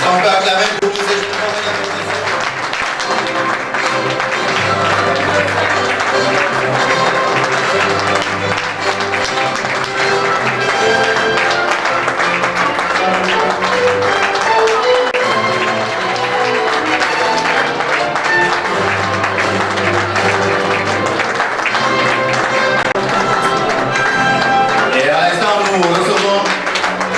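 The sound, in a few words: wedding guests applauding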